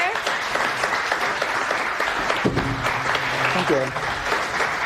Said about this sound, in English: So, round of applause here.